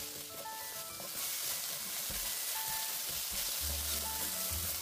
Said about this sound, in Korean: 팬에 올리브 오일을 두른 후 마늘 1스푼을 넣고 볶아주다가 마늘이 살짝 익었을 때 썰어놓은 양파를 넣고 볶아줍니다